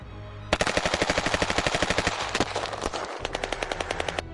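Star Wars blaster fire in a film erupts in a loud, rapid volley of evenly spaced shots, pausing briefly before another quick burst.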